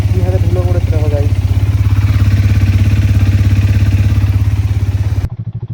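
After a cold start, a motorcycle engine idles loud and close with a fast, even thumping beat. A brief voice is heard early on, and the sound cuts off abruptly near the end.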